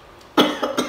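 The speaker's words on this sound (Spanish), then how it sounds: "Ya empecé a toser." A single close cough from chili fumes while making aguachile, a sharp burst followed by a couple of rough follow-up hacks in quick succession.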